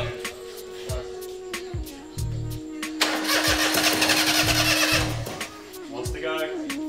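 A hand-built endurance race car engine cranks with a rhythmic starter chug, then catches briefly with a loud rising roar before faltering, while people talk nearby.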